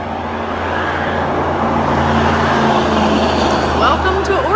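Logging trucks and other traffic passing on a road in Oregon, a steady loud roar of engines and tires rolling by close, with a voice talking over it.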